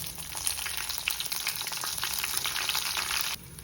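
Cumin seeds, garlic and dried red chillies crackle and sizzle steadily in hot oil for a South Indian sambar tempering, a dense close frying hiss with small pops throughout, dropping away abruptly near the end.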